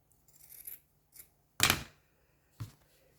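Scissors snip through material while making a Santa Claus craft, with a few separate crisp cuts and one loud, close snip standing out among quieter rustles.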